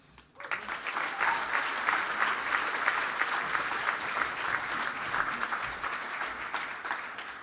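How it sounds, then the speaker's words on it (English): Audience applause fills a hall at an academic closing ceremony, starting abruptly and holding as a dense, steady clapping from a large crowd for several seconds before easing slightly. "let's give another round of applause for all our special guests"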